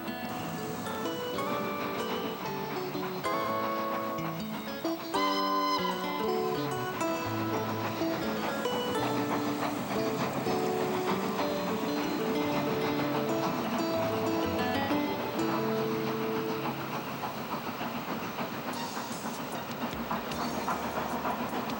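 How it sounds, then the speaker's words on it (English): Trains pass through Conwy on the line toward the North Wales coast, a continuous loud rumble with rhythmic clickety-clack and hissing that holds steady for over twenty seconds. "Passing trains heading for the North Wales coast add to the atmosphere of this majestic town."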